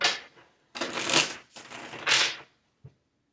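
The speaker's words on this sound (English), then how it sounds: "this will be our last shuffle" Cards being riffle-shuffled up close, a few quick ruffling bursts followed by a soft tap as the deck settles.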